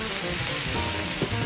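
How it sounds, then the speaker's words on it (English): Alliums and celery softening in fat in a skillet, giving a steady close sizzle with faint crackles and a brief stir near the end. "So my alliums are softening in all of that fat."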